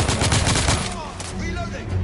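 Rapid close shotgun blasts in The Order: 1886, several loud booming shots in quick succession that fade into a quieter tail.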